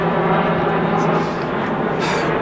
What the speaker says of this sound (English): This is the disadvantage of doing open air comedy. You get bloody airplanes!